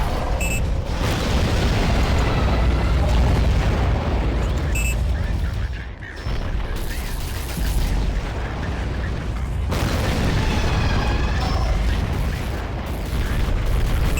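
Howitzer weapon fire in the AquaNox underwater combat video game, a dense, continuous rumble of booming explosions and mechanical noise lasting throughout, loud and close.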